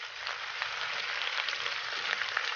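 Large oxtails fry and brown slowly in a pot over low heat, a steady, even sizzle with faint crackles, close and continuous throughout.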